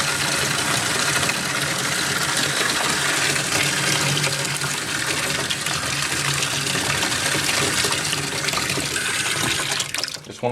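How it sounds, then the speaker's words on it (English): Water gushing steadily from a hose into a fodder tray of dry barley seed, a loud continuous rushing pour lasting about ten seconds before cutting off. "we're just going to go ahead and cover it with water."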